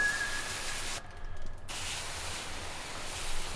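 Heavy duty degreaser, diluted about half and half, sprayed onto a filthy John Deere tractor: a continuous close broadband spray hiss that cuts out briefly for a moment, then resumes.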